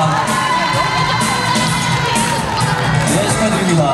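A large crowd of students cheers, whoops and claps loudly and continuously at a school dance competition award ceremony, a dense close wall of sound throughout.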